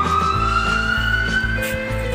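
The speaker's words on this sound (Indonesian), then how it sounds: "Ada mobil pemadam kebakaran ya." A loud electronic siren from a toy fire truck wails in a repeating two-tone pattern, close and steady.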